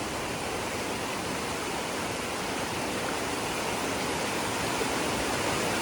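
A hiker wades across a flowing stream on the Appalachian Trail. Loud, steady rushing water fills the whole stretch, close by and unbroken, with no voices.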